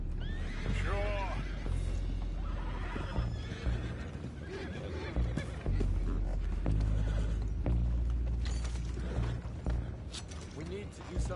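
Horses in the Red Dead Redemption video game whinny repeatedly while hooves clip-clop and wooden mechanisms creak nearby, with game characters talking over the animal sounds throughout.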